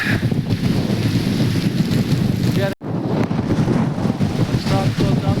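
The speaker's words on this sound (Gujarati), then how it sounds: "વરસાદ તો ચાલુ જ છે, ધીમે ધીમે વધારે પવન છે" Strong wind and rain sweep through Chalala town in a mini storm, roaring loudly and continuously against the microphone with heavy buffeting, broken by one brief dropout midway.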